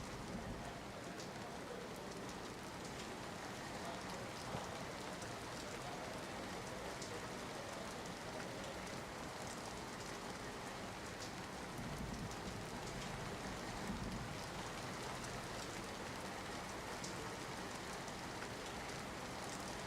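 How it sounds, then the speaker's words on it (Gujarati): Continuous rain pours down over Surat, a dense, unbroken hiss of drops striking surfaces that holds steady and moderately loud throughout, with no voices. "સુરતમાં સતત વરસાદ વરસી રહ્યો છે"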